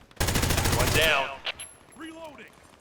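Rapid burst of automatic gunfire in the free-to-play shooter Hired Ops, loud and close for about a second, followed by a couple of fainter clicks and short voiced fragments.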